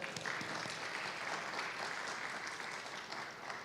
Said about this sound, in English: So a big round of applause to her.